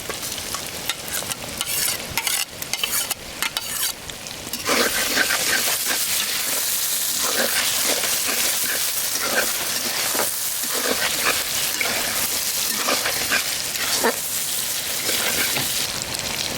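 Tomato sauce hits a hot pan for street-style noodles and is stirred, starting as scraping and clattering that gives way to a loud, continuous, close sizzle with stirring noises throughout.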